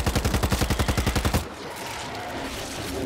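Rapid automatic gunfire in the video game Rainbow Six Siege, a loud, steady burst of about a dozen evenly spaced shots that stops abruptly, leaving faint background ambience.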